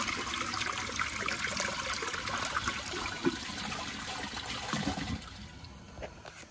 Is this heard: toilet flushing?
yes